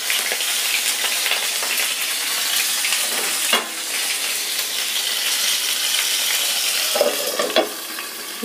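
Eggplant and potatoes sizzle steadily in a hot pan for a dam baigan aloo sabzi, a close, continuous frying hiss with a few brief clinks of stirring and no talk.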